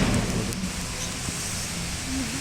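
Steady rain falls at a temple monastery with a park, giving a broad, even hiss that continues for the whole short stretch with no voices.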